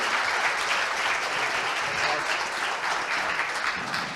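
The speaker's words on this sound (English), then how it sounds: "can everyone give a big round of applause?" A conference audience at a bitcoin developer event breaks into a big round of applause, dense and loud with steady clapping sustained for about four seconds without pause.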